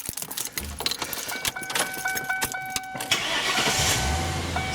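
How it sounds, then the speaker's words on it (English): A Lincoln car's engine starting: keys jangle and click with sharp rattles, then the starter cranks and the engine catches into a steady, close idle with a rising hum. "Start the car."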